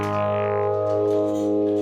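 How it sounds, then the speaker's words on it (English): Electric guitar through a Donner Pearl Tremor flanger set to modern mode with distortion on, a sustained effected chord swirling with resonant flanging sweeps, loud and close, played alone. "You can already hear there's a little more resonance, regen, sort of, in flanger terms."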